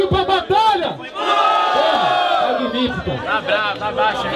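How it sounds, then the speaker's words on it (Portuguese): A crowd at the Batalha do Tanque rap battle in São Gonçalo, Brazil, 2015, roars and shouts loudly and continuously, with voices yelling over one another in a dense, excited din. "Rapaziada, eu pedi barulho pra batalha!"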